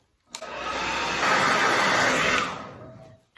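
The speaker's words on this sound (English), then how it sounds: "you take your blow dryer" A blow dryer aimed at water-spilled books runs in one loud, steady rush of air for about two seconds and then cuts off, with no talking over it.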